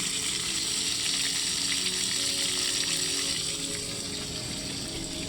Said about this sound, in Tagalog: pagkatapos ni Lorenzo guys magluto ng adobo ay nagperito na naman siya guys